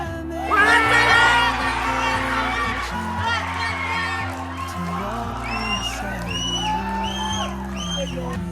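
A stadium crowd at a T20 cricket match at Chinchin Garden in Bhaktapur cheers, whoops and shouts continuously, with many overlapping voices rising loudly near the start and then holding a lively roar.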